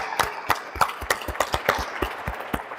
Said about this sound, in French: Can we give the Lord a big hand of praise?